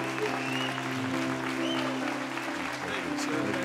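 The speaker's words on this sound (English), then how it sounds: "give Thaddeus Bullard, Titus O'Neill, a big hand and round of applause" Audience applause fills a church sanctuary in DeLand, Florida, greeting Titus O'Neil: steady, dense clapping from a large crowd, loud and continuous throughout.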